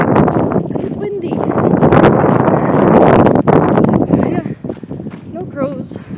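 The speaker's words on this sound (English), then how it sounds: "it's windy." Wind buffets a microphone outdoors with a heavy, rumbling roar that swells and fades, while a person speaks over it and a few faint bird calls come through near the end.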